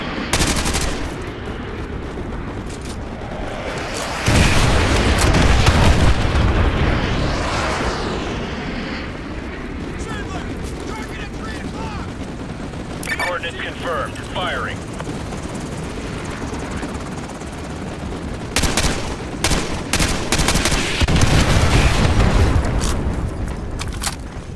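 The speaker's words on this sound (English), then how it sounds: "use your laser designator to call in artillery on those vehicles. Fire mission received. Artillery is down." Artillery strike in Call of Duty: Modern Warfare 2 Remastered, with heavy booming blasts and rumbling impacts that swell and fade over a loud battlefield bed of helicopter rotor noise and scattered gunfire.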